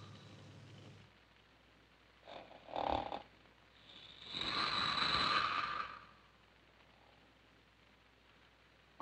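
A person snores in a 1940 horror film scene: a rough throaty snort followed by a longer, louder rasping snore over a low background hum, with no speech.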